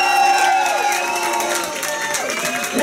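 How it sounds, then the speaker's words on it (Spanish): A studio crowd at a drag diva competition cheers and claps steadily at close range for a few seconds, with whoops rising over a continuous wash of applause. "Fuerte el aplauso también para la señorita Micaela Carapaz."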